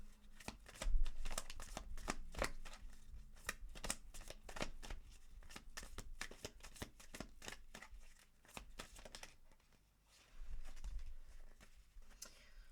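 Moonology oracle cards are shuffled in a rapid run of crisp riffling flicks and slaps, close and fairly quiet, with a brief pause before the shuffling resumes near the end.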